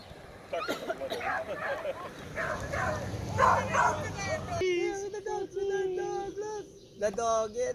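Dog barking and yipping near a disused Anglican church in a ghost town, several short excited barks with a voice talking at the same time.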